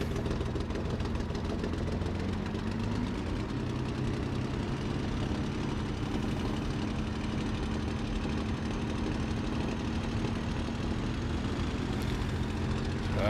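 A Messerschmitt Bf 109G-6 propeller fighter roars down the runway on its takeoff roll in Microsoft Flight Simulator, a loud continuous engine drone with a slowly shifting pitch from start to finish.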